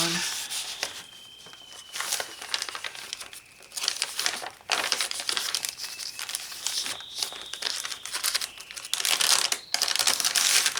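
A paper bag crinkles and rustles up close as journal ephemera is handled, a continuous dry crackling that swells and pauses in bursts.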